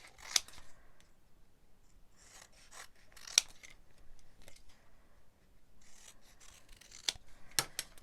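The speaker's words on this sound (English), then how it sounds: "I'm going to layer my DSP one on top of the other and then cut the excess off." Scissors snip through layered designer paper in a quiet craft room, several short sharp rasping cuts separated by pauses and soft rustles of the paper being handled.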